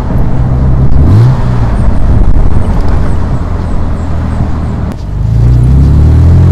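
A Morgan Roadster 3.0-litre V6, driven with the roof down, drones steadily at low pitch with wind rush, briefly rising and shifting as it accelerates, loud and close throughout.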